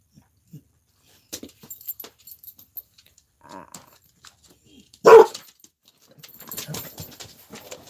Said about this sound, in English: And those are my dogs